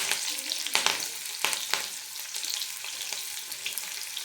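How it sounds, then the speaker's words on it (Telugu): Garlic, curry leaves and green and dried red chillies frying in hot oil for a carrot stir-fry, a bright crackling sizzle with a few sharp pops and spoon strikes early on, no speech. "ఒకటి పచ్చిమిర్చి, అలాగే ఒకటి ఎండుమిర్చి వేసుకొని ఫ్రై చేసుకుందాం"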